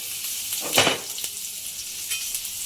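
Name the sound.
dried chilli, cumin, grated garlic and ginger frying in hot oil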